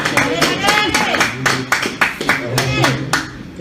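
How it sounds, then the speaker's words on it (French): Applause at a junior national final match in Xare, a Basque pelota game, with sharp irregular claps from a small crowd in an echoing court, mixed with voices talking over them. "Quatre partout, on va applaudir"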